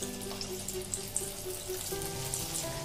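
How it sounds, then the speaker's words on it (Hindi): Methi and bajra tikkis deep fry in hot oil, giving a continuous close bubbling sizzle with scattered crackles and pops throughout, and no voices. "ऑयल गर्म हो गए तो इसमें एक एक करके टिक्की डालेंगे।"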